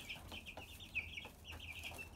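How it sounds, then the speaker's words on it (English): Newly bought chicks peep indoors, a steady chorus of high, thin calls from several birds overlapping continuously at close range with no talking. "Yep, there's some chicks."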